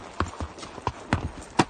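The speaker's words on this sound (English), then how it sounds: "I am riding by myself, videoing with one hand" A horse's hooves clip-clop at a walk while being ridden on a trail, giving about seven distinct close hoofbeats in an uneven rhythm with no talk.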